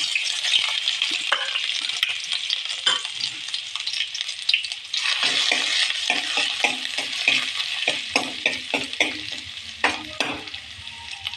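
Chopped ginger and garlic frying in hot oil give a loud, continuous sizzle, broken by repeated scraping and stirring of a spoon against the pan.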